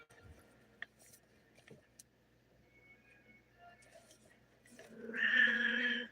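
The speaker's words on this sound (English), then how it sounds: "That's what my cat says." A house cat lets out a single short meow near the end, fairly close and clear, after several seconds of quiet room noise with faint ticks and clicks.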